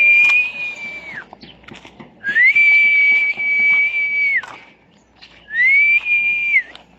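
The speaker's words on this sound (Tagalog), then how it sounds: "Sipol tayo." A person whistles three long, steady, sustained notes, each ending in a downward slide, loud and close with short pauses between them.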